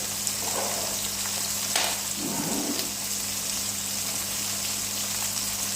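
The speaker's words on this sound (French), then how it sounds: "Et je vais bien les faire rôtir de chaque côté." Fish pieces fry in a pan with a steady, dense sizzle that holds at an even level throughout. A few soft bubbling swells rise and fall within the sizzle, and no one speaks.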